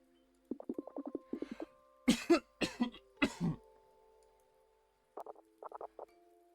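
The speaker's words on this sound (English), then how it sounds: "Mom is coughing a lot again." A woman's repeated coughing, several short bursts in quick clusters, close and clear with quiet gaps between.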